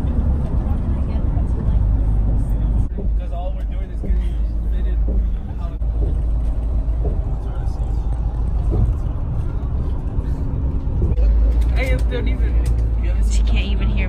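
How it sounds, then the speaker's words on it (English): A bus pulls up at a college campus stop, its low engine rumble and road noise steady throughout, with people chatting nearby over the traffic din. "Our bus is here."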